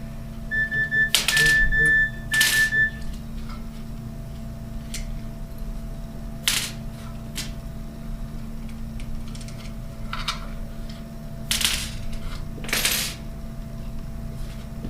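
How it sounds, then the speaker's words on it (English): Small metallic clicks and clatters while screws come out of the shroud of a Spyder MRX paintball marker with an Allen key, sparse sharp taps scattered over a quiet hum, close by. "Now I'm going to take the shroud off. Has 6 screws here on the side to take off."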